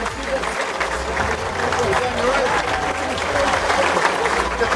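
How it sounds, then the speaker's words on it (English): Steady, full applause from the audience at a football club academy awards night, loud and continuous, with a faint murmur of voices underneath. "Taking the applause."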